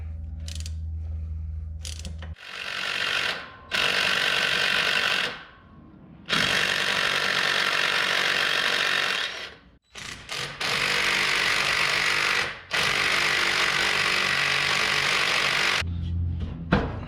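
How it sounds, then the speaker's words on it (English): Power tool, likely an impact wrench, driving out four Torx bolts from the drive shaft of a 2005-or-later Ford Super Duty truck, running in several loud sustained bursts of buzzing rattle separated by short pauses, with no talk. "we're gonna start off by removing our drive shaft, and should be fairly simple. All it is 4 Torx bolts"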